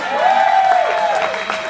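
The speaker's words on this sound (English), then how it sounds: "Y'all give a round of applause one more time." An audience at an open mic jam gives a round of applause, a steady crowd wash under a sustained tone, with a voice talking over it.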